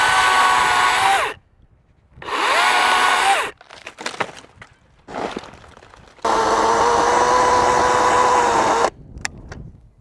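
A battery-powered chainsaw runs at a steady high whine in loud bursts with pauses between, cutting to drop a tree top, with cracking and thuds of falling wood in the gaps.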